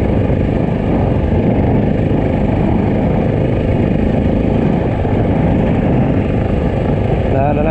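Honda XR650L dual-sport motorcycle ridden through snow near a frozen lake, its single-cylinder engine a loud, continuous close-up drone with wind noise, holding steady throughout.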